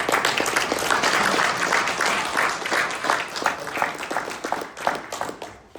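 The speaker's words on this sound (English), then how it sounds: "I was going for a smattering of applause or a polite golf clap or something today." A smattering of audience applause after a talk on electrical safety, scattered claps of moderate density that thin out and fade toward the end, with no one speaking over them.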